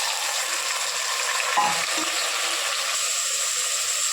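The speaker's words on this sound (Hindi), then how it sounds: "चलिए मटन को भून लेते हैं।" Mutton frying with garam masala and spices in a pot for Hyderabadi kaddu ka dalcha, giving a soft steady sizzle with a couple of brief stirring knocks, close by and without talk.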